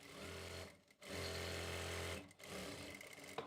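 A sewing machine stitching a seam on a salwar runs loud and close in two long steady bursts, each stopping briefly, then starts again with a short knock near the end.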